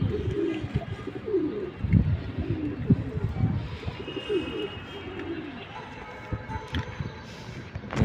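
Pigeons in a loft give repeated low, throaty coos, close and fairly loud, that overlap one another against faint background rustling.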